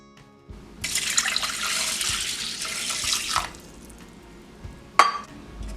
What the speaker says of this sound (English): Add 1 cup water.